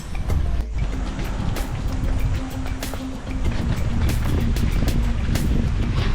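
Steady, loud wind buffeting the microphone on a walk to Tabon Cave in Palawan, with a low rumbling roar throughout and occasional gusts; no voices.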